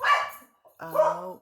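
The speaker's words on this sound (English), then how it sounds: "I apologize for my dog" A pet dog barks twice at close range in sharp, loud bursts separated by a short pause, and a person lets out a brief exclamation.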